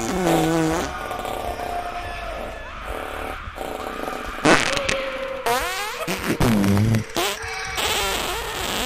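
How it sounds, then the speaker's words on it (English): Spooky Halloween fart sounds play back from a video as a string of buzzy, uneven bursts mixed with other loud effects and a little talk. "I'm not laughing because it's a fart"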